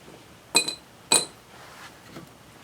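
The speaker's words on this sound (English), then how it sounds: "So I'm going to drop these into our little thing of part cleaner as well." Two small metal carburetor parts dropped one after another into a container of parts cleaner, each landing with a sharp bright clink and a short rattle, close and fairly loud, followed by a faint softer knock.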